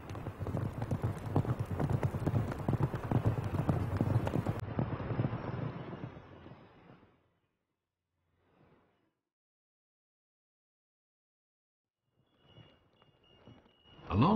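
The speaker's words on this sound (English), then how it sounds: "Riding on horseback from Sumpan on the ancient Lung An ancient tea horse road, people can still get a sense of the past." Horses walk along the ancient Songpan tea horse road with steady clip-clop hoofbeats under wind, then fade to near silence, and a few faint, scattered sounds return at the end.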